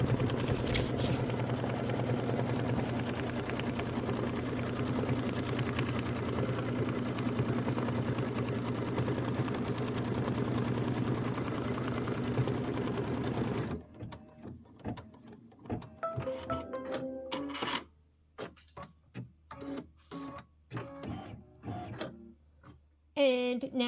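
A sewing machine stitches a mini quilt in a steady, continuous whir for about fourteen seconds, then stops, leaving clicks, handling noises and a woman's speech.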